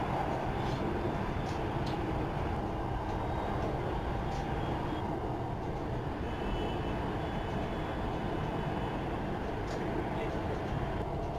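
A Pune Metro train running out of an underground tunnel onto an elevated viaduct, heard from inside the car as a steady, dense broadband rumble of wheels and motors with no clear breaks.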